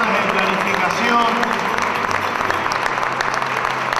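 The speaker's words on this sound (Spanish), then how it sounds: "la recibimos con un fuerte aplauso" Applause from an audience at a Teacher's Day school ceremony in Cañuelas welcoming a family, continuous crowd clapping with voices mixed in.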